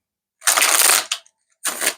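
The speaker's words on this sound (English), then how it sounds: "One more shuffle." Tarot cards are shuffled close up in two quick bursts, a crisp papery riffle lasting about half a second, then a brief pause and a second shorter shuffle, with silence between.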